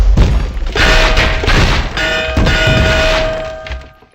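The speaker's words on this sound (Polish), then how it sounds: "Cóż to był za wybuch? Co tu się dzieje? Po raz kolejny zawaliła się jaskinia" An explosion and cave collapse in Until Dawn rebuilt in Minecraft, with a series of heavy booming thuds and rumbling debris layered with ringing metallic tones, fading out at the end.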